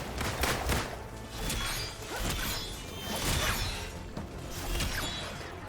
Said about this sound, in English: Might as well start off with an explosion